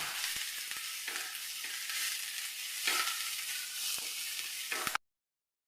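Onions, curry leaves and ginger sautéing in a pan, a steady close sizzle broken by sharp clicks and scrapes of stirring, ending abruptly in silence.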